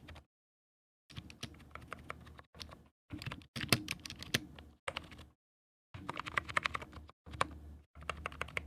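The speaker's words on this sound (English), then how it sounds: "These are membrane keys, so we will go ahead and let you guys hear that up close now." Typing on an Onn LED gaming membrane keyboard, heard up close in several bursts of soft, rapid key presses separated by short silent pauses.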